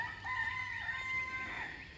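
A rooster in an African village crows in a long drawn-out call, fairly close and alone, with no talking.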